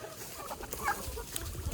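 Homestead chickens cluck and murmur near their feeder at feeding time, with short scattered clucks over low barnyard noise and a few soft thumps.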